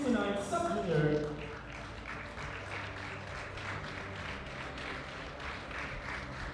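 A crowd applauds at a women's 69 kg session of the European Sub-Junior and Junior Classic Powerlifting Championship. A voice speaks briefly at the start, then steady, moderately distant clapping fills the rest.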